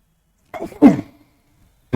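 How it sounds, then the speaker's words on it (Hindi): One close, sharp cough from a man: a short rough burst, followed after a pause by the start of another brief cough at the very end. "थोड़ा खांसी आ रही।"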